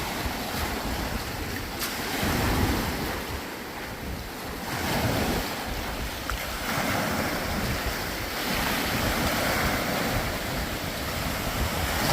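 Ocean waves wash onto the beach at the Bay of Fundy near Hopewell Rocks, New Brunswick, a steady broad surf roar mixed with gusty wind buffeting the microphone, with no voices.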